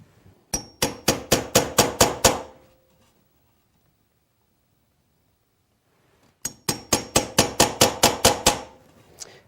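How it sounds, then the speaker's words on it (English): A Lie Nielsen drawer lock chisel strikes wood in two rapid bursts of about eight sharp, ringing taps each, close and loud, separated by several seconds of silence. "then I'll switch over to the other chisel."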